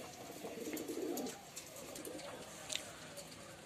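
Pigeons coo softly in a low, throaty murmur against a hissy outdoor background, with a faint higher chirp near the end.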